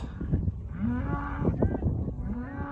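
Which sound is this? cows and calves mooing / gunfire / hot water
cows and calves mooing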